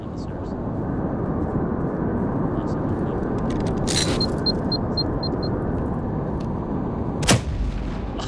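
A grenade goes off in Firewall Zero Hour: a sharp, loud blast bursts through a constant roar of gunfire and battle noise, followed by a second short crack a few seconds later.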